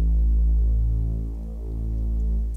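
Distorted bass pad from the Vital synth, a heavy low sustained drone with buzzing upper harmonics that dips slightly in level midway and swells back, steady and close with no one talking.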